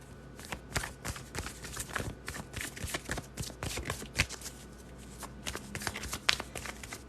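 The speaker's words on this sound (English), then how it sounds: "let's shuffle the deck here." A deck of tarot cards being shuffled up close, a steady run of crisp riffling snaps and rustles over several seconds with no voice.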